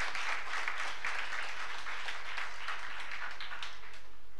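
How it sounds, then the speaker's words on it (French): A congregation applauding in a chapel during a feast-day Mass for Saint Gerard Majella, steady moderate clapping from many hands that carries on evenly, no speech. "Applaudissez, s'il vous plaît."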